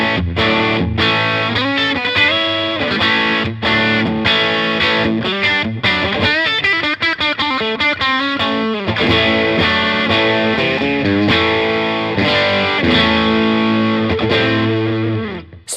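Electric guitar played through a Chevtone Preacher Drive overdrive pedal into a clean amp, all knobs at noon, mildly driven chords and busy single-note runs ringing continuously, alone with no talking.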